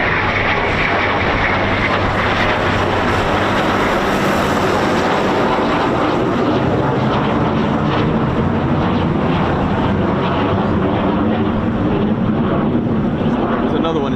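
A Eurofighter Typhoon FGR4 jet flying the circuit at RAF Coningsby produces a loud, sustained roaring engine rumble that fills the whole stretch, steady and broad, with faint voices underneath.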